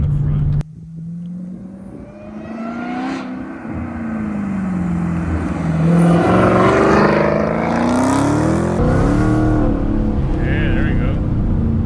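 A Dodge Hellcat pulls hard from inside the cabin, its engine note rising and falling through several gear shifts, loud and close, while people talk over it.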